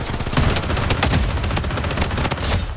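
Rapid automatic gunfire bursts in the Blood Strike battle royale video game, loud and dense with repeated shots throughout, no talking.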